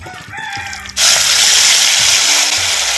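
Marinated cauliflower dropped into hot groundnut oil, setting off a sudden loud sizzle that stays at a steady hiss, with faint rooster crowing audible in the background beforehand.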